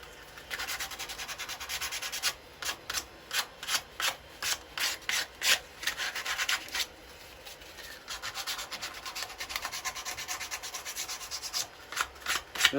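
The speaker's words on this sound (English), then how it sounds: "it needs a little bit of hand sanding on here" Hand sanding of a turned wooden toy car to soften sharp edges, a steady run of rhythmic rasping strokes close up, quickening into a dense continuous scrub partway through, with no talking.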